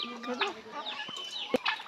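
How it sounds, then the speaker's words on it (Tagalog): Backyard chickens, including Rhode Island hens, cluck and squawk at feeding time in a rural province yard, with overlapping calls and a sharp louder squawk near the end. "magpapakain na naman tayo ng mga alaga nating manok, pabo"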